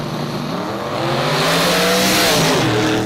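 A race car loses control at the start of a race. Its loud, close engine roars and rises in pitch, and tires squeal continuously.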